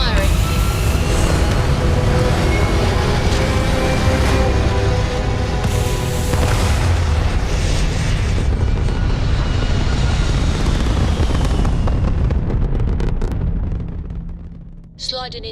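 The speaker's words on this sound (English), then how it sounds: "All thrusters firing." Loud, sustained roar of spaceship thrusters firing in Starfield, a dense rumbling engine blast that holds steady for most of the stretch before tapering off near the end, with a crew voice talking over it.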